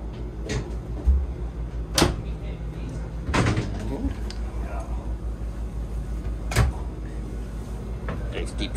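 Cabinet door on a 2023 Excess XCS 14 catamaran opened and shut, giving a few sharp thumps and clicks over a steady low engine-like hum, with people talking nearby.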